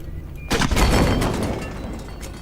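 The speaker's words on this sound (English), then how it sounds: "Now, I know that's a grenade" Grenade-launcher rounds exploding in a video game, a sudden loud burst of blasts near the start followed by a long rumbling decay under steady game background noise.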